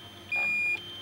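A DJI Mini 2 drone sounds its critically low battery warning as a single steady high beep lasting about half a second, clear above quiet background noise.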